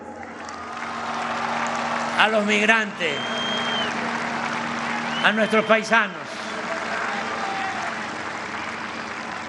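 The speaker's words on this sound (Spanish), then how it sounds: "Un aplauso" A large crowd applauds and cheers in the Zócalo during a political rally speech, two swelling bursts of clapping and shouts under someone speaking Spanish through loudspeakers.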